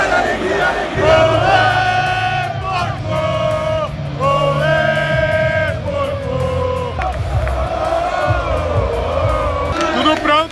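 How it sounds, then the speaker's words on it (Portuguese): A loud, dense football crowd roars and chants throughout at a Copa Libertadores match between Colo-Colo and Palmeiras, rival supporters pressing with sustained shouting and whoops from a packed stadium. "torcida rival pressionando"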